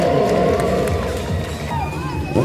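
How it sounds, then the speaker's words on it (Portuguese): Outdoor crowd at a motorcycle stunt show in Ji-Paraná cheers and shouts loudly and continuously, a dense roar of voices with whoops rising over it, apparently without applause. "E quem gostou, pode aplaudir o Dentinho."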